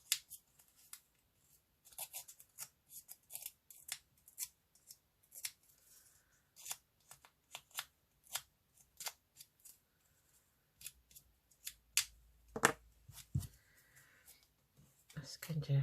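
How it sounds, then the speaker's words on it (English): Scraping tool roughening collage paper, giving close, irregular dry scratching strokes separated by short pauses, with a few louder rasps near the end. "I'm just going to get my scraping tool"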